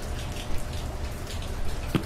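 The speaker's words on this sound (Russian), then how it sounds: "Дождь, говорит, идет." Steady rain falls in the video game Blind Survivor, a soft, even wash of drops that continues for the whole stretch with no voices over it.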